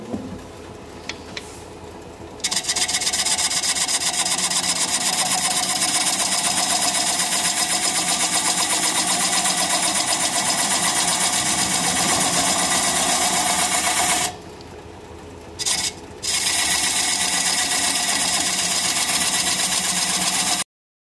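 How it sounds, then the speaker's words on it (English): Wood lathe spinning an out-of-balance wooden bowl while a half-inch standard grind bowl gouge turns the bottom, a loud continuous whirring drone that briefly drops out and restarts near the end. "I'm going to switch to a half-inch standard grind bowl gouge and start working on the bottom here"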